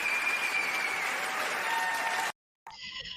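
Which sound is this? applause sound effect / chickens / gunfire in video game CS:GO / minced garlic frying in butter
applause sound effect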